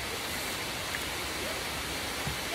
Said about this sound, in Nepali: कलकल बगिरहेको झरना